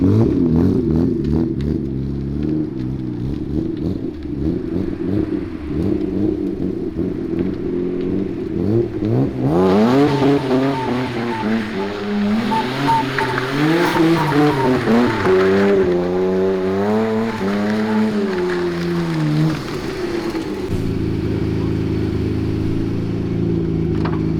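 A Amuse GTR sports car driving on the highway, its engine note rising and falling in repeated revving sweeps before settling back into a steady, continuous drone.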